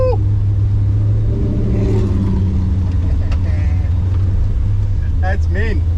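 A self-built car engine revs hard on a drag-challenge run, a loud, steady low drone that climbs in pitch, with excited voices talking over it throughout.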